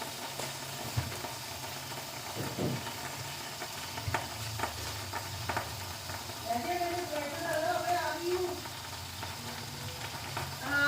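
Steady frying sizzle of paratha in a pan fills the background, with occasional stirring clinks and faint indistinct voices in the distance.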